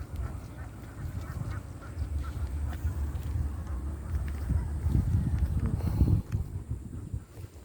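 Domestic ducks quack in a steady, overlapping chatter close by, with a wind-buffeted outdoor backdrop and the calls growing louder toward the end.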